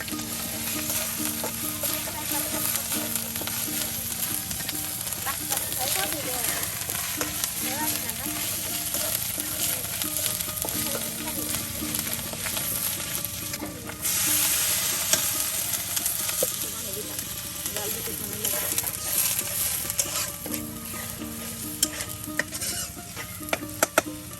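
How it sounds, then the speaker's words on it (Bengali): Whole spices and bay leaf fry in oil for a village-style Bengali dish, making a continuous close sizzle with stirring scrapes and occasional utensil clinks, and voices are faintly audible at times. "এই যে সব কিছু তেলের সাথে এই যে ভেজে নিচ্ছে"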